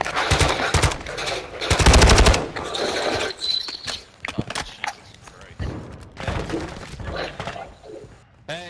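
Bursts of automatic and single-shot gunfire in the video game DMZ, loud and close, rattling in clusters across the stretch with brief gaps, while players talk excitedly over the shooting.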